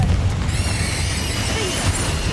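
A Confringo spell explosion in Hogwarts Legacy, a deep booming blast that trails off into a lingering rumble, loud and close with no talking over it.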